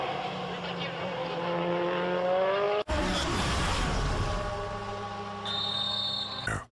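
A touring car in a WTCC race in Russia roars across the finish line, loud harmonic engine note under race commentary, then a sharp cut to a different, noisier engine wash with crowd-like broadband noise.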